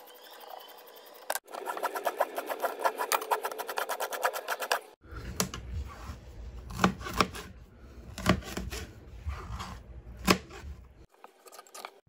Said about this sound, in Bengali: এখন আমি একটু গাজর কুচি করে নিব।